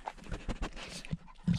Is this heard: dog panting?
yes